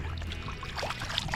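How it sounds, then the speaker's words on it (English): Crappie fillets being rinsed in lake water at the bank, a steady close splashing and trickling wash with soft pours and drips throughout, no voices. "Just gonna come over here and wash them off in the lake."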